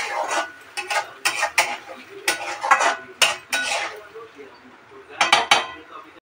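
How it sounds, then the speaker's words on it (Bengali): Paneer butter masala with kasuri methi being stirred in a pan, a utensil scraping and clinking against the metal in repeated bursts with short pauses between strokes, close and fairly loud, no talking. "নাড়িয়ে দিচ্ছি।"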